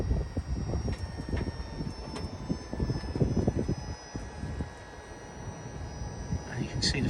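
A hydraulic levelling system on a motorhome lifts the front end on its legs, giving a steady low motor drone with uneven mechanical knocks and pulses, faint talk underneath.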